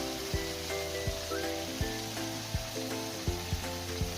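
Potatoes going into a frying onion-tomato gravy thickened with mashed potato, giving a steady close sizzle with regular sharp knocks of a spoon or pan every half second or so.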